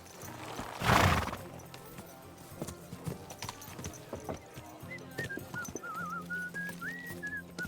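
A horse snorts and whinnies loudly in the video game Kingdom Come: Deliverance 2, then hooves clip-clop steadily while a melodic whistle rises and falls over them.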